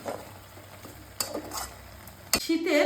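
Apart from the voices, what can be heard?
stirring scallion curry with chopped coriander leaves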